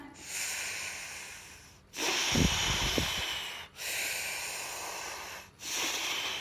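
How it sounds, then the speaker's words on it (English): Students in a brass class do a group breathing exercise, a loud, close rush of air in repeated long inhales and exhales separated by brief pauses, with a few snort-like bursts in one breath and no talk. "We'll do the breathing."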